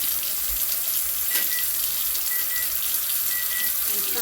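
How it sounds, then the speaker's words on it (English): Hot water and cooked noodles pour from a pot into a colander in a sink, a steady close rushing splash that runs unbroken throughout. "I'm going to go ahead and empty out the noodles into the colander."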